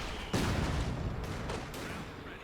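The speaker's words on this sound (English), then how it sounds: "And it's just explosions in every direction, everyone." Explosions and artillery fire on a Company of Heroes 2 battlefield: one sharp, loud blast followed by a rumbling decay and a few fainter distant booms, with no talking.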